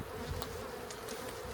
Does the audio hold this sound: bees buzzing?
yes